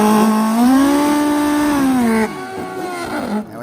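A nitrous drag racing motorcycle, a Kawasaki or Suzuki Hayabusa, screams past with a loud rising engine note that climbs, holds, then drops away into quieter engine noise.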